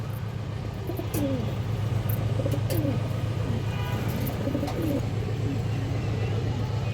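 A pair of big-sized Bagha pigeons coo in repeated low, throaty phrases, close by and fairly steady, over a constant low background hum.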